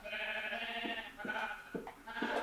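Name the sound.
sheep bleating in the video game Minecraft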